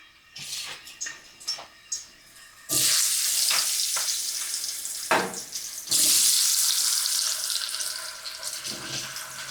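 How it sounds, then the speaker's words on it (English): Loud, steady sizzling of potatoes frying in a pan, starting after a few light clinks and stirs, with a brief crackling burst midway. "It's sizzling, so I'm going to go ahead and put them in."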